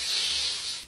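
Water poured into a hot wok during seasoning, after burnt onion, sends up a steady, bright sizzling hiss that fades slightly toward the end, close and alone.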